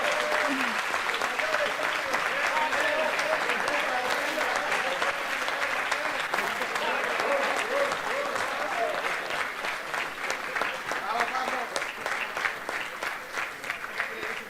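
Conference audience applauding to welcome comic artist Paco Roca, a dense, sustained wash of clapping that stays loud and steady before thinning slightly near the end.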